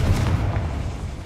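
A Confringo fire spell detonates in Hogwarts Legacy, a loud booming blast with deep rumble that decays over about a second, no talking.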